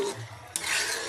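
A spoon stirring munggo, a mung bean stew with ampalaya leaves and eggplant, in a pot, a short scraping swirl with a sharp scrape of metal against the pot partway through.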